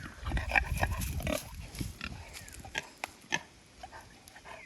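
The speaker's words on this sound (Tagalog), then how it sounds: "Mga baboy damo." Wild pigs grunt and snuffle close by in an outdoor forest setting, with a dense burst of overlapping grunts at first that thins to scattered single grunts and rustling.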